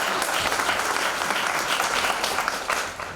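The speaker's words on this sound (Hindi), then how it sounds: "तो आज यहाँ सब लोग हैं, एक बार तालियों की गूंज में।" Sustained applause from a mushaira poetry gathering audience, dense and fairly loud clapping filling the room, tapering slightly toward the end.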